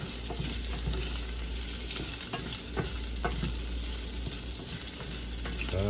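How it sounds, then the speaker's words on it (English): Shrimp seasoned with Old Bay sizzle steadily in a pan over medium heat, with soft scraping and clinks of stirring scattered through the continuous frying hiss. "Just kind of stir your shrimp up in there."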